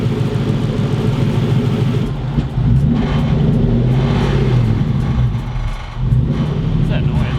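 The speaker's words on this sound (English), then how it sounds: "Is that just the exhaust rattling?" A drift truck's supercharged 1UZ engine idles steadily, with a metallic exhaust rattle buzzing through a loud, continuous low rumble as people talk close by.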